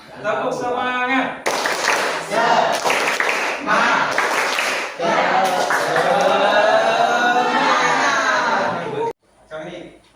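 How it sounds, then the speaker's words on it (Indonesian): A group of people doing a rhythmic spirit clap in a school coaching session, with bursts of patterned clapping mixed with voices and some laughter, close and loud, stopping abruptly near the end. "Tepuk semangat."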